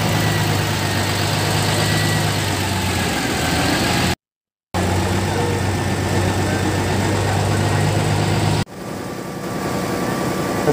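A boat engine in Samut Prakan, Thailand drones loudly and continuously, a low idling rumble that cuts out briefly and then resumes, settling lower near the end.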